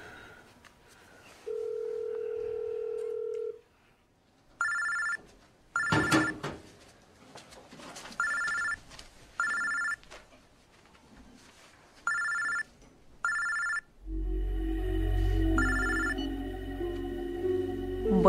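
A telephone ringing in repeated short electronic trills separated by pauses, preceded by a brief steady tone and followed by a louder, denser burst of ringing.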